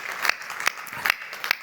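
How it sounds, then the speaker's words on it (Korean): A few sharp claps in a church during a Thursday night worship service, four distinct hand claps spaced roughly evenly, fairly quiet, over a soft room background. "은혜 주신 우리 하나님께 영광의 박수 올리겠습니다."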